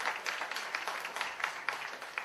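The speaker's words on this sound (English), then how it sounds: "Go ahead and clap." Audience clapping at a film festival MoU signing ceremony, a steady, moderately faint patter of many hands with no voices over it.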